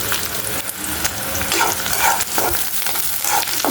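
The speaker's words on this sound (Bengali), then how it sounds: "ভালো করে পেস্টটা ভেজে নেব" Spice paste frying in hot oil in a pan, a loud continuous sizzle and crackle with scraping stirs throughout, no voices.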